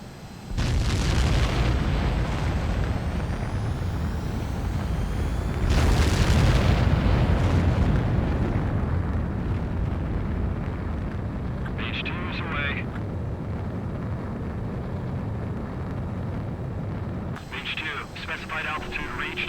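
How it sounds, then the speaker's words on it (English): Fighter jet roaring through a takeoff in the Ace Combat 7 air-combat video game, a loud sustained engine blast that swells again midway, with radio-style voices talking over it. "H2, begin takeoff sequence."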